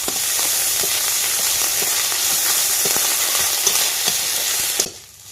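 Chopped onion, garlic, green chilli and ginger paste frying in hot oil, a loud, continuous close sizzle with faint stirring clicks that cuts off abruptly at the end.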